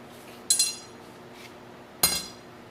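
Two sharp ringing hammer blows on metal at the edge of an anvil during forging, spaced about a second and a half apart, each with a bright metallic ring that decays quickly, close by with no talking.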